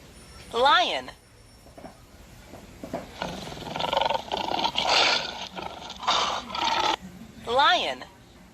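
A lion roars twice in loud, close bursts, with a stretch of background noise and scattered sounds between them. No one speaks over it.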